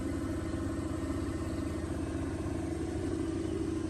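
A small Detroit diesel engine idling on a Drott 40BYR Cruz-Air machine, a steady low rumble with fine pulsing clatter, constant and close with no voices.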